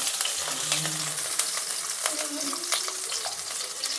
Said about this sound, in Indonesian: Sekarang mau saya tumis dulu jahe sama bawang putihnya ya.